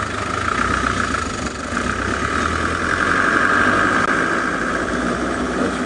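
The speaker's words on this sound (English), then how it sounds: "the sound of the roar of this deeply aged diesel engine" An aged diesel engine on an old safari vehicle idles in a continuous, rough, close rumble with steady vibration and no talk over it.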